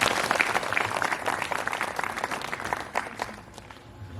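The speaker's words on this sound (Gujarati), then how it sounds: "દરેકને માટે ફરી વખત આપણે જોરદાર તાળી પાડીએ" An audience at an Easter celebration in Dang applauds, dense many-handed clapping from a crowd that is loud at first and then slowly thins out, with faint voices mixed in.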